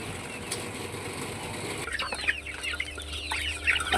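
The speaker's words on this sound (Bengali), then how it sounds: "এরপর আমরা মুরগিকে দিয়ে দিব।" Farm chickens being fed a blended homemade feed, with clucking and sudden bursts of wing flapping that grow busier and louder partway through, close by and without talk.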